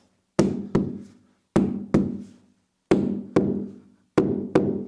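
Rubber mallet knocking carpet stair runner into a stair corner at a 45-degree angle: eight firm, close, dull thuds in pairs, each with a short decay, and no talking.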